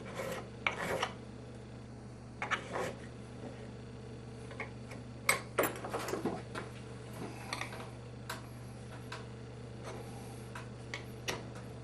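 A wooden wheel pattern is scraped by hand with a flat scraper in a cold New Jersey workshop, giving irregular rasping strokes and soft ticks, close and fairly quiet, with no talking.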